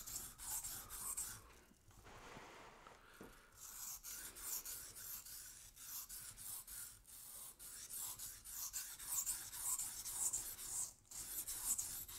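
Leatherman Signal blade being sharpened on a wet whetstone, quiet rasping strokes worked back and forth in an irregular rhythm, close and faint.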